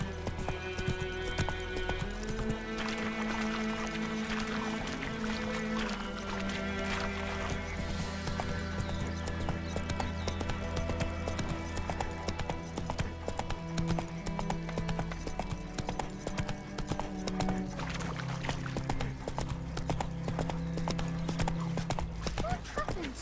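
Geralt's horse Roach gallops in The Witcher 3 with rapid rhythmic hoof clip-clops and an occasional whinny, under game music and spoken dialogue.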